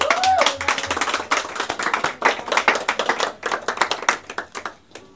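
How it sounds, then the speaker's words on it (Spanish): A church congregation claps together after a sermon line about God keeping promises, a dense, loud, irregular burst of many hands that holds steady and then thins out toward the end. "Un aplauso al Señor"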